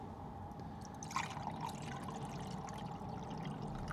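Water poured into a kettle for cooking on a gas cooker inside a camper van, a steady liquid trickle with a brief louder splash, set against a constant background hum.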